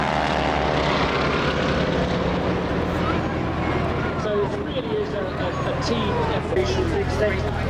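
Propeller aircraft flying over an air show, its engine drone loud and steady throughout and shifting in pitch as it passes, with a crowd faintly murmuring underneath.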